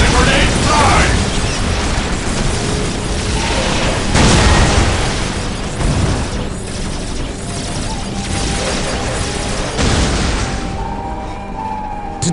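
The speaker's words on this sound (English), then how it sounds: "Let the grenade fly!" Grenade blasts in the strategy game Dawn of War: Dark Crusade, with repeated loud booms and crackling bursts over constant battlefield din and mechanical clatter, several distinct impacts spaced across the stretch.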